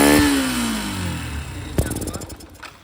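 Yamaha FZ V4 BS6 motorcycle with a pickup-missing fault, its engine running and revving unevenly up close, with a sharp restart burst partway through and choppy, sputtering firing afterward.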